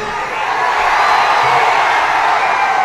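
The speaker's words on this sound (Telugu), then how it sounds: "మీరు సీఎం సీఎం అని అరుస్తూ ఉన్నారు" A dense, continuous roar from a large crowd fills the air at a Jana Sena political rally addressed by Pawan Kalyan, loud and steady throughout with no single voice standing out.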